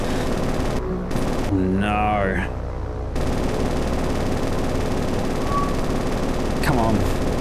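Rear tail gunners on aircraft fire machine guns in the naval combat game War on the Sea, a dense, continuous rattling barrage that stays steady throughout, with a voice briefly speaking over it.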